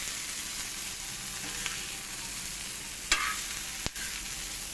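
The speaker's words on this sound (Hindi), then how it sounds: "बस इसको हमने फ्राई कर लिया भिंडी को।" Okra and onion fry on a flat tawa griddle for dhaba-style bhindi masala, giving a constant close sizzle with a couple of sharp scraping stirs partway through.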